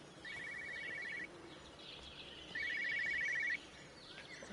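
A telephone rings twice in the Everybody's Gone to the Rapture video game, two trilling electronic bursts about a second long separated by a pause, faint over a quiet outdoor ambience with soft bird chirps.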